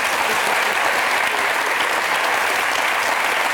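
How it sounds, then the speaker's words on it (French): Loud, steady applause from a TV studio audience on a French talk show, an even wash of many hands clapping with no pauses or speech. "Applaudissements pour Patricia."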